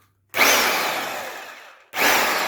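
A new rotary hammer drill on its first test run, spinning up with a loud whirring burst, winding down and then starting again.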